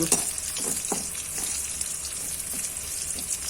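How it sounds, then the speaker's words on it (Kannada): Onions sizzling in hot oil for a prawn curry tempering, a steady close crackle with soft stirring scrapes now and then, and no voices over it. "ಈರುಳ್ಳಿ ಇಲ್ಲಿ ಸ್ವಲ್ಪ ರೆಡಿ ಆಗಿದೆ, ಎಲ್ಲ ಫ್ರೈ ಆಗಿದೆ"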